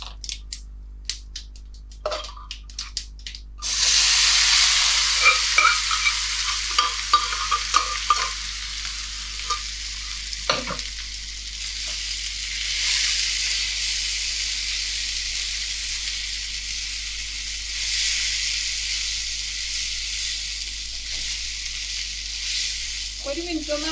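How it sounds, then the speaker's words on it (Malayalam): Chicken for Kerala-style chicken thoran is stirred and fried in a pan: a loud, close sizzle erupts after some scattered clinks and scrapes, then continues steadily with occasional utensil knocks. "ഒരു മിനിറ്റ് ഒന്ന് ഇളക്കി കൊടുക്കുക, ഒന്ന് ഡ്രൈ ആവുന്നവരെ"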